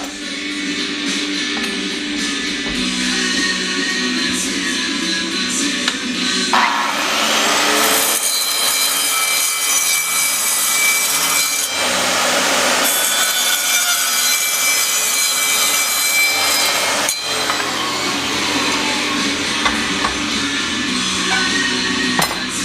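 A power tool grinds and cuts a notch into 2-inch steel flat stock for a bowfishing boat build, a loud, harsh, sustained rasp with shifting pitch and brief pauses as the cut progresses, no talking.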